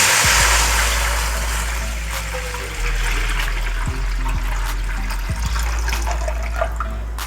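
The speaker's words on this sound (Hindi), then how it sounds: "डेढ़ लीटर पानी हमने ऐड कर लिया है" Water pours steadily into a wok sitting on a lit stove burner, a continuous rushing gush with a low rumble that lasts throughout, loud and close, with no talking.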